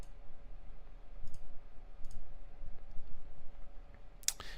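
Computer mouse clicks on a quiet desk: a few soft, sparse clicks over faint background hiss, with a sharper click near the end.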